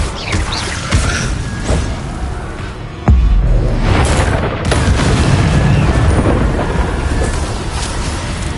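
An Incendio fire spell is cast in the Hogwarts Legacy video game, a loud booming burst that gives way to a sustained roaring crackle of flames amid dense, continuous game combat noise.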